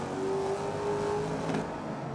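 A car engine in a racing video game accelerates with a steady, loud rising whine that holds for about two seconds, with no voices over it.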